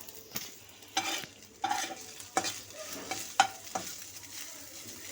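Chow mein frying and being stirred in a pan at home, with a soft sizzle beneath repeated scraping strokes of a utensil against the pan every second or so, close by and fairly quiet.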